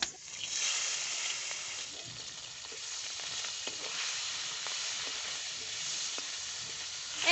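Live singi fish sizzle and crackle in hot oil for a potato and bitter gourd curry. The frying is steady and moderately loud and runs alone throughout, with a few sharp pops rising above the hiss.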